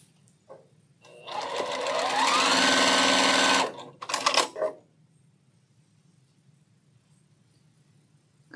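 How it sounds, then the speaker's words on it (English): A sewing machine runs a steady stitching burst for about two and a half seconds while piecing a Stitch Pink sew-along quilt block, then gives a couple of short stitching spurts before going quiet. "Just making sure I'm sewing on the right side of the block."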